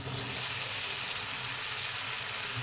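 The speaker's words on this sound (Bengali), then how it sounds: "এবার আমি এখানে সেদ্ধ করা সজনা ডাঁটা আর আলু ঢেলে দেব।" Boiled drumsticks and potatoes are tipped into hot spice paste that has released its oil, giving a steady, close hiss and sizzle of frying with a faint watery crackle throughout.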